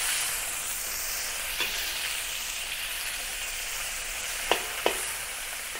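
Shrimp pan-frying in oil in a wok for a shrimp and broccoli stir-fry, a steady close crackling sizzle throughout with a few sharp ticks near the end.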